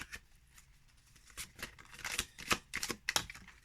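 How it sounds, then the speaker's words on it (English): Glossy Bloody Tears tarot cards being shuffled by hand, a run of quick riffling bursts and flicks that build and grow louder toward the end, close up with no voices. "The shuffling is, yeah, it's good."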